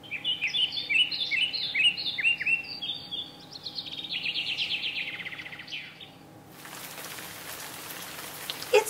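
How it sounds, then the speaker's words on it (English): Bright birdsong chirps and trills for several seconds, then a steady hiss of falling rain sweeps in and continues to the end. "It's starting to rain."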